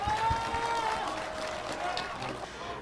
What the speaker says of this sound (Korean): 다시 한번 홍준표 의원님께 큰 박수와 환호 부탁드리겠습니다